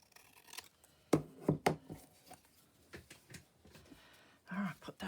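Scissors snip through paper cut from old books, a few crisp cuts close by with rustling handling in between and no talk over them.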